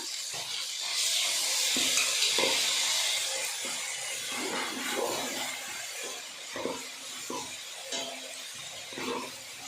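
Ground masala paste fries in hot oil in a pan for biryani. A steady, close sizzle and hiss runs throughout, broken by soft thumps of stirring.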